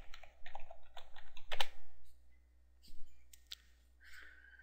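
Keys clatter on a computer keyboard as an admin username and password are entered, a few quick bursts of close, moderate clicks with short pauses between them and nobody talking.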